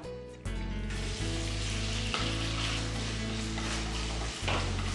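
Hanwoo beef japchae stir-frying in a generous pour of oil with seasoning and starch slurry, a loud continuous sizzle with occasional scrapes and shifts as the pan is tossed, no voices.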